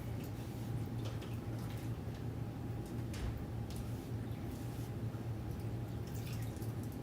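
Water runs steadily from a tap while a craft transfer is rinsed, a constant faint wash with scattered small drips and splashes throughout.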